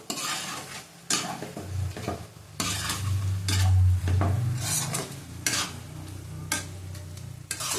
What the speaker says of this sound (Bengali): নুন দিলাম আবার ভালো করে কষিয়ে নেব